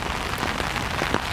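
Steady rain patters on surfaces outdoors, a dense, even hiss of drops throughout with no voices.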